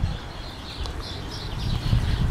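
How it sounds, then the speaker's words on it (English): Birds sing in a back garden with an oak tree, their light chirps and calls faint over low outdoor rumble. "Can you hear those birds?"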